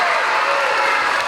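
A brief, dense burst of audience applause voting for the cello in an orchestra event, loud and continuous throughout.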